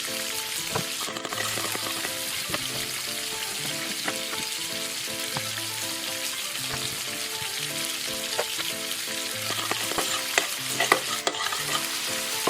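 Garlic sautés in a hot pan with a steady close sizzle, broken by repeated scraping stirs and a few sharper clinks of the utensil toward the end, with no talking.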